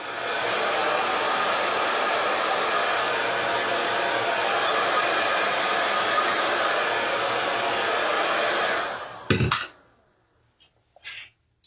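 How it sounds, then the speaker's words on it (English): A blow dryer runs continuously while drying hair after a self-done haircut, a steady loud whoosh for about nine seconds before it clicks off, followed by a few faint handling sounds. "I like to use a blow dryer more these days."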